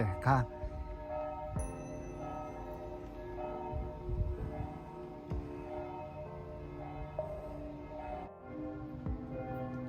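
Bells at an old castle in Germany ring out in overlapping, resonant tones with long sustained hum, struck several times against faint background noise.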